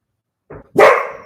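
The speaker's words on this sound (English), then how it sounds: "We've got dogs barking." Dogs bark outdoors, a short yap followed by a louder, sustained bark, close and clear with no talking.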